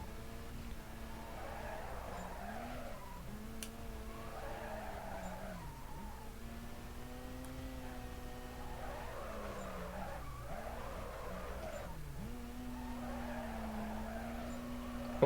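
Car in Need for Speed Carbon on the Wii, drifting with long, wavering tire squeals over a constant engine drone. The squeals repeat in several sweeping bursts that rise and fall in pitch.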